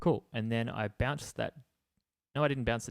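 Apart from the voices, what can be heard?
No everyday noises stand out.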